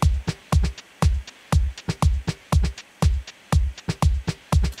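GarageBand Apple loop playing back: a punchy drum pattern with booming kicks and sharp snare hits repeating in a steady rhythm, loud and alone without talking.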